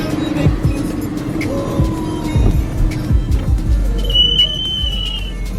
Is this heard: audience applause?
no